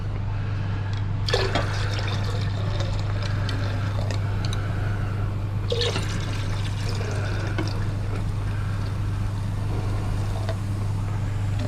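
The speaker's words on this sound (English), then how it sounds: "So I'll pour this evenly between the 2 beakers." Liquid solution from a gold recovery process poured into two glass beakers, a continuous pouring splash with two louder surges, over a steady low electrical hum.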